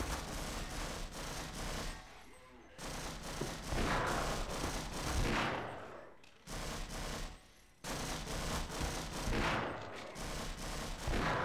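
Gunfire in the video game Half-Life: sustained rapid automatic shooting with repeated bursts and brief pauses, loud and close throughout, with blasts mixed in.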